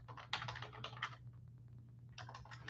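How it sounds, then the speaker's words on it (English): Quiet typing on a computer keyboard, two short flurries of light key taps separated by a pause, with a steady low hum underneath and no speech. "We're almost done, so I might as well type this."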